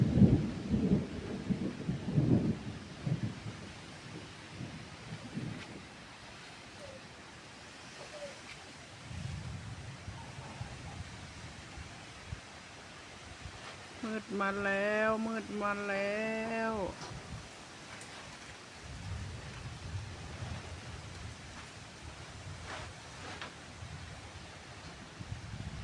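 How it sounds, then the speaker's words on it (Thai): Low rumbles of distant thunder rolling through a windy outdoor ambience, with someone speaking briefly in between. "เสียงฟ้าร้องฟ้าแลบ"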